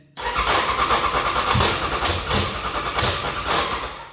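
An AJS custom chopper motorcycle engine cranks over without catching, a loud, close, rhythmic chugging of repeated compression pulses that starts abruptly and runs steadily throughout.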